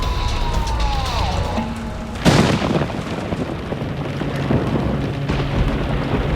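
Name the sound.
thunder during a thunderstorm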